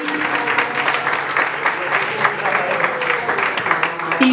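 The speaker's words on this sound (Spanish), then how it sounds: "Así que el aplauso bien fuerte para ella" Guests at a quinceañera mariachi serenade applaud warmly, a loud, continuous crowd clapping with some voices and faint tones underneath.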